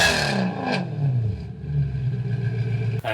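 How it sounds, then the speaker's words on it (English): Heard from outside, a supercharged car engine running on E85 fuel revs in short bursts, rising and falling with a raspy mechanical tone and some clatter, loud and fairly close. "we gotta go on the outside of the car and hear it too."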